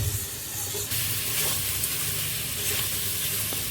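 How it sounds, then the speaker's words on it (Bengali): Spice paste and potatoes frying in a pan, a steady close sizzle and hiss with occasional stirring scrapes, no voices. "ভালো করে মশলাটাকে কষতে হবে, যাতে মশলার গন্ধ না ওঠে।"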